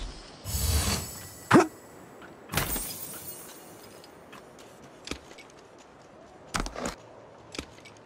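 Weapon reloading in Apex Legends Mobile, a sniper rifle with a level 3 extended sniper magazine: a series of sharp mechanical clicks and clacks spread over several seconds, some crisp and loud, others softer, with quiet background in between.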